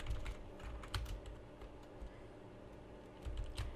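Rapid typing on a computer keyboard, a steady run of soft clicks and clacks with a few louder keystroke bursts near the start and end, close and fairly quiet.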